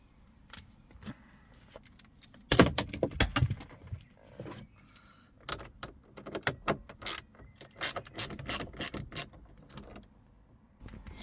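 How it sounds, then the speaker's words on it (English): An 8mm socket ratchet unscrews screws during a BMW E93 stereo removal. Close, sharp bursts of clicking and metallic rattling come in irregular clusters, with no talking. "we would need an 8mm socket to unscrew them 2"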